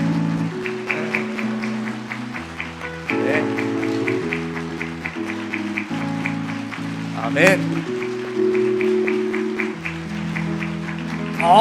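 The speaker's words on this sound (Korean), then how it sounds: "끝까지 박수로 격려해 주십시오" Church congregation applauds during a baptism and confirmation ceremony as five candidates walk down the center aisle, steady clapping running under sustained organ or piano chords, with brief spoken responses from the assembly.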